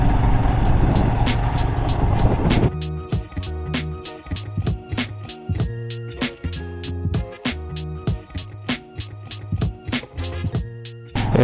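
A vehicle engine labours on a loose gravel climb toward the high-altitude Umling La pass, barely pulling in second gear. A steady heavy drone gives way to a rapid train of sharp ticks and crunches over continuous low engine rumble.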